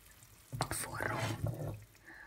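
Hot water flavored with bacon is poured off in a home kitchen, a short close splash and trickle lasting under two seconds over low background hiss.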